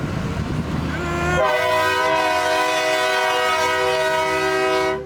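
A chain-pulled, train-style horn sounds outdoors at night with one loud, sustained blast lasting several seconds, following a brief stretch of muffled background noise.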